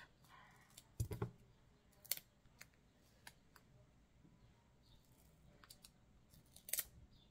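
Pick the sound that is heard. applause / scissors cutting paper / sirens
scissors cutting paper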